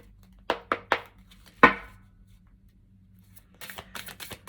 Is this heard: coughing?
no